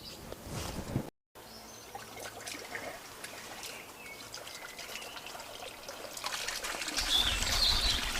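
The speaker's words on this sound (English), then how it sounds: "One pond with lots of nice free running water." Water from a freshly cleaned pond pump running out through rocks into a garden pond, a steady trickling stream throughout that swells louder toward the end, with faint birdsong around it.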